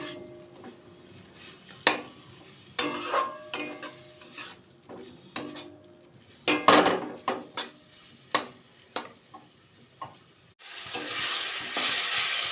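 Spring roll filling with tomato sauce, green chilli sauce and soy sauce stirred in a pan, a spoon clattering and scraping in irregular strokes against a faint sizzle, ending in a steadier hiss.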